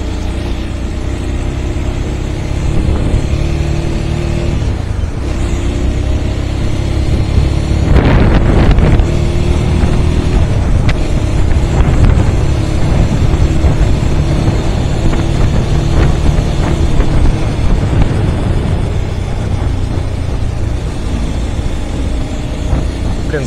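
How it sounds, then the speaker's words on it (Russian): A steady Regulmoto Alien Monster 300 motorcycle engine drone runs throughout with rushing wind noise, rising slightly in the middle while riding. "Звук мотора реально вот у него приятный."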